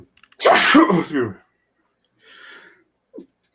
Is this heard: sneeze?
yes